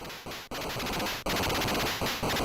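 Rapid machine-gun bursts from an NES video game crackle loud and harsh, with several sharp breaks between volleys.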